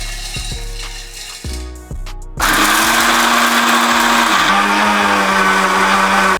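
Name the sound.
grinder grinding peeled peanuts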